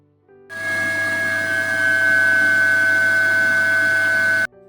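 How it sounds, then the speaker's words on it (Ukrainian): A vacuum cleaner's loud, steady motor roar with a high whine and low hum starts up after a brief pause, holds evenly, then shuts off. "Дослід 3. Пилосос."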